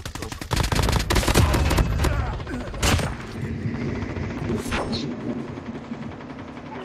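Gunfire in a video game, a loud burst of rapid shots at the start followed by a few scattered single cracks over a steady background rumble, with occasional talk.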